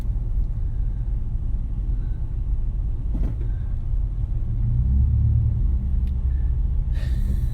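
Perth freeway traffic rumbling past, a constant low heavy rumble of vehicles with a swell midway and a brief hiss near the end, no talking.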